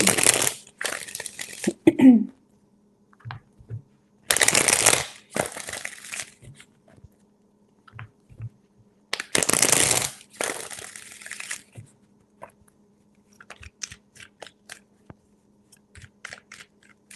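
Crisp riffling of tarot cards being shuffled three times up close, each a short papery burst separated by quiet pauses with soft handling noises.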